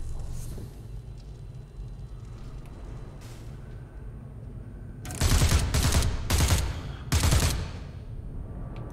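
Loud bursts of gunfire blast at aliens in the VR space horror game The Persistence, coming in three or four rapid volleys over a steady low background hum.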